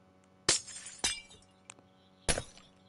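Glass breaking in a few sharp, bright shattering bursts, each with a short tinkling tail, close and loud against a quiet background.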